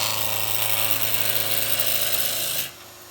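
A 3/4-inch skew chisel cuts a wooden spindle turning on a lathe: a steady, loud, close whirring scrape runs without a break, then stops abruptly near the end.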